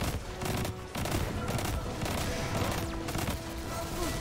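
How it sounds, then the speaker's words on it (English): Sustained automatic gunfire from the shooter video game Destiny 2, loud and dense with rapid repeating shots over game effects, and a slight break near the one-second mark. "Please, let me just shoot it."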